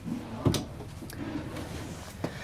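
Storage drawer in a 2025 Renegade Valencia 38BB Super C motorhome slides out with a soft thump and a short rolling rumble, followed by a faint knock near the end, close and fairly quiet.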